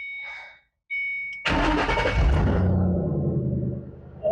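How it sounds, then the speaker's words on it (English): A 2008 Ford Mustang GT with a newly fitted MBRP exhaust cranks with a whirring starter, then catches and roars to life with a deep, loud exhaust rumble that settles into a throaty idle. "This is first time starting up with the new exhaust."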